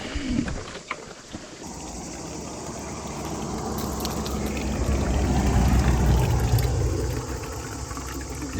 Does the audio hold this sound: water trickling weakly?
yes